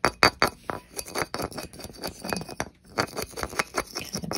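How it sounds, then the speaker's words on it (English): Light metallic taps on a wire ring fitted over a tapered ring mandrel, a quick irregular series of sharp, close clinks with brief pauses between bursts. "as I'm tapping this to get the shank bigger, my mandrel is tapered"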